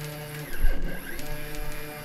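A DIY Arduino-controlled CNC router on ball screws travels along its Y axis at 100 inches a minute, its stepper motors producing a buzzing, whining drone whose pitch dips and sweeps as the gantry moves.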